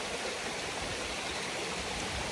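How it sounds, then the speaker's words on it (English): Stream water flows and splashes as someone walks through it, a dense, steady rushing wash that fills the whole moment up close with no voices. "I'm about to walk through this water."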